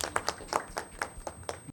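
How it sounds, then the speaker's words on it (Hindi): A small group at a bankers' felicitation ceremony claps sparsely, with distinct, irregular claps a fraction of a second apart. The clapping is moderately close and there is no talking. "एक बार तो मैम सभी हमारे बैंकर्स के लिए तालियां हो जाए हमारी तरफ से"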